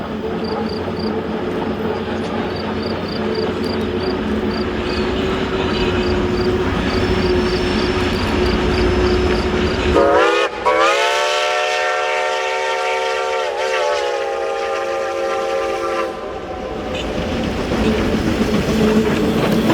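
Reading Company T1 class 2102 steam locomotive, a 4-8-4 rebuilt from a 2-8-0 consolidation, running with a heavy, continuous rumble, then a loud, sustained multi-tone whistle blast that stops abruptly before the rumble carries on.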